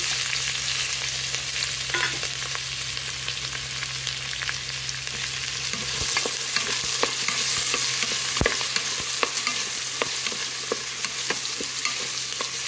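Onions dropped into hot oil with cloves and cinnamon for a mutton curry, a steady close sizzle and frying hiss throughout, with scattered stirring clicks and scrapes of a spoon against the pan.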